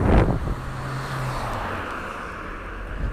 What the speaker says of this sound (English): Oh look, a car.